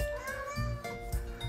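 A pet cat lets out a single drawn-out, close meow with a rising and falling pitch, heard alone in a quiet indoor room.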